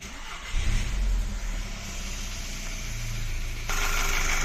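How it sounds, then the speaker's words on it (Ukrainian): A Volkswagen Golf GTI 2.0 TSI with engine trouble cranks and fires, settling into a steady close idle that grows slightly louder and rougher toward the end, with no talk over it. "Запускаємо двигун."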